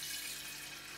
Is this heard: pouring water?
yes